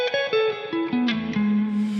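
Electric guitar notes played through a reverb pedal step downward one after another, each sustaining and blending into a smooth washy tail that lingers after the final held note.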